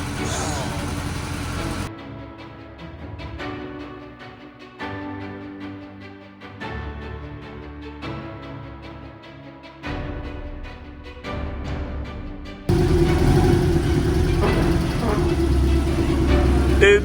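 The engine of a wrecked Porsche Cayman S runs and the car drives off, a steady mid-pitched engine drone that grows louder near the end, with voices talking over it.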